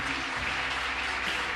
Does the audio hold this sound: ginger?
no